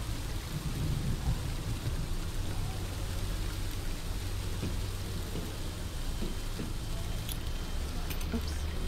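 Steady rain falling outdoors in a video game, a constant dense hiss with low rumbling throughout, with faint voices under it.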